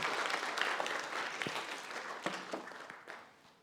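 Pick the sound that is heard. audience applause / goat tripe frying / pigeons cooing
audience applause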